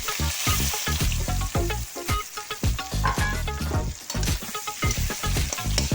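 Chopped onions hit a hot pan already holding cumin and cardamom for a mixed vegetable sabji, sizzling loudly and steadily with crackling spits and the occasional scrape of stirring, close and without talk.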